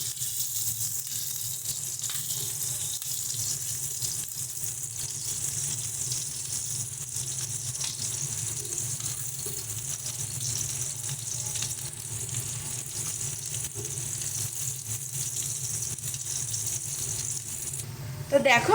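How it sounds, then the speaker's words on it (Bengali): Onions fry in oil in a wok, giving a steady close sizzling hiss with occasional faint stirring sounds, and a brief louder clatter at the very end. "তো চলো সমস্ত পেঁয়াজগুলোকে একটু ভালো করে হালকা করে ভেজে নিচ্ছি।"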